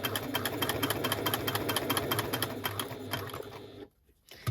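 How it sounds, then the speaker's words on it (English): Sewing machine stitching around fabric rectangles at a 2 stitch length, a steady, fast mechanical chatter up close that stops briefly near the end before a single thump. "Then we're going to stitch around those rectangles with a 2 stitch length."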